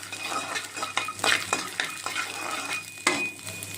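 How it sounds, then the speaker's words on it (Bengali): Peanuts and dried red chillies sizzle softly in a pan while a utensil stirs them, scraping and clinking at irregular moments over the gentle frying. "এখন বাদাম আর শুকনো লঙ্কা দিয়ে ভালো করে ভেজে নেব"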